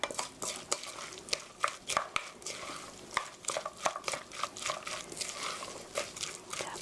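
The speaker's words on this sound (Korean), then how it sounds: "이렇게 고루 잘 섞어주시고요" A spoon scrapes and clinks around a pan while meat sauce for a rice bowl is stirred, giving repeated close, uneven strokes with soft sizzling and sticky sounds in between.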